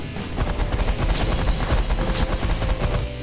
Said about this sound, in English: this guy's using a champion ability called starburst, and it's a really devastating one to be worrying about